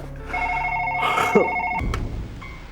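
A landline telephone rings at night indoors, with repeated electronic bell trills in two bursts, loud and close, followed by a brief handling clunk as the receiver is picked up.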